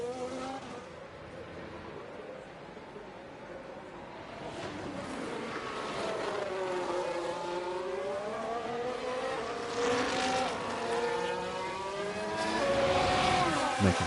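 Formula 1 race cars overtake at Spa in F1 Manager 23, with engine notes rising and falling as the cars pass and rev up, growing louder toward the end; a continuous, close engine roar.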